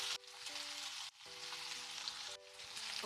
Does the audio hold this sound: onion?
yes